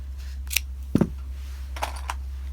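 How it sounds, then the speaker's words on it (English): Scissors snip through felt around a cardboard stencil for a mitten ornament, a few sharp close cuts spaced irregularly over a low steady hum, with no voices. "I hold my scissors and try not to cut through my cardboard stencil here."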